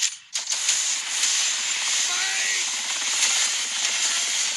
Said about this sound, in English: These helicopters.